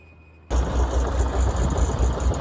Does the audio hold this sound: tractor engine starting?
yes